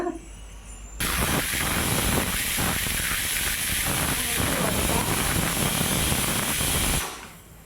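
A loud, sustained hiss of steam jets out of a pressure cooker whistle for several seconds, starting abruptly and cutting off, with a faint voice underneath.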